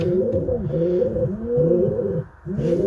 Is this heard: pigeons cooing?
yes